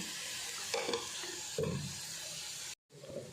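Onions fry with chilli and coriander powder in a pan for crab roast, giving a steady close sizzle broken by a couple of stirring scrapes, a brief cut to silence, then more frying.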